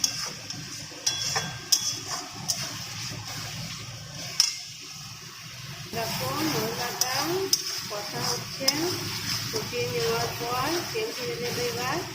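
A biryani spice mix fries in oil in a pan while being stirred, producing a steady low sizzle with scraping strokes and occasional sharp utensil clicks. A voice talks faintly beneath it.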